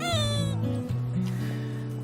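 Cats on Ainoshima cat island, including a mother and her kittens, meowing close by in several overlapping drawn-out mews and a higher wail, with brief quiet voices in the background.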